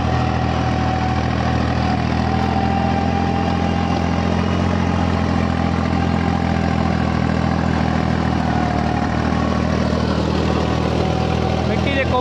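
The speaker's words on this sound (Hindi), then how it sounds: "हैरो के ऊपर जो है रूटावेटर चला रहे हैं।" Tractor engine pulling a rotavator over harrowed soil in a sugarcane field, a steady loud droning rumble that holds unbroken and close throughout, with no pauses or changes in pitch.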